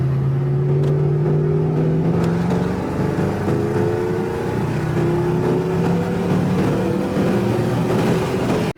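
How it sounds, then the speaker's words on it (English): A Mercedes-AMG car accelerates through a third gear pull, its engine note climbing steadily in pitch under loud, continuous roar before cutting off abruptly at the end. "I'm gonna do a little third gear pull for you guys. Because we're in the AMG"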